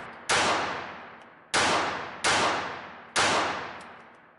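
Four sharp, loud pistol shots from an L.W. Seecamp .32 firing PMC Bronze ammunition at an indoor range, spaced irregularly about a second apart, each with a hard crack and a ringing decay.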